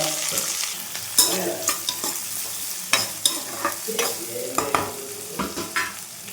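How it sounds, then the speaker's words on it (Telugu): Onion pieces fry in hot oil with seasoning seeds in a village kitchen, a steady sizzle punctuated by repeated sharp scraping and stirring strokes, close and fairly loud with no talking. "ఆయిల్ హీట్ అయ్యాక తాలింపు గింజలు వేసుకోవాలి ఒక పెద్ద సైజ్ ఆనియన్ నేను ముందుగా కట్ చేసి పెట్టుకున్నా సో ఆ పీసెస్ కూడా యాడ్ చేసుకుంటున్నాను"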